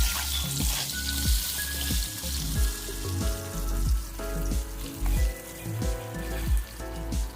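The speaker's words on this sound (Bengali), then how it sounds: "কেটে রাখা আলুগুলো এবার আমি এক এক করে কড়াইয়ের মধ্যে দিয়ে দিচ্ছি।" Cut potatoes fry in hot oil in a kadai, a close, continuous crackling sizzle with scattered pops, heard alone with a low rumbling background.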